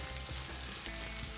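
Corn kernels frying in butter in a pan for a Mexican dish, giving a steady, close hiss and crackle with soft bubbling underneath and no voices.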